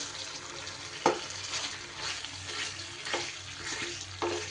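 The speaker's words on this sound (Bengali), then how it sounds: "এইভাবে একটু ভালো করে কষিয়ে নেব আরও কিছু সময় ধরে।" Chicken coated in masala with cashews sizzles steadily in a pan, with a spatula scraping and stirring at intervals of about a second, close and moderately quiet, with no talking.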